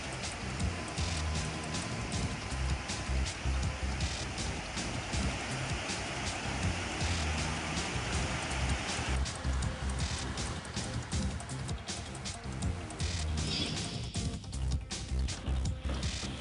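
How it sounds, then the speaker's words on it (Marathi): Heavy rain falls in a village area during a late-season downpour, a dense, steady patter and roar of drops on surfaces that continues throughout, close and alone. "गेल्या 2 दिवसांपासून परिसरात जोरदार परतीचा पाऊस सुरू आहे"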